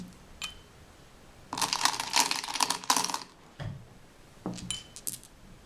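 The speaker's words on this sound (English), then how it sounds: "So now we've set down all of our stones" Small decorative stones from a dollar store sprinkled across a holiday table setting: a quick flurry of light clicking and rattling lasting a couple of seconds, then a few scattered taps, all fairly quiet.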